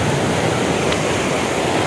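Rough sea surf breaking against the shore while fishing, a steady broadband wash of churning waves up close with no lulls, wind rushing over it throughout.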